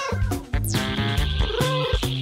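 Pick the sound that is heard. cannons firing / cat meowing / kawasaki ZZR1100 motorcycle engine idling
cat meowing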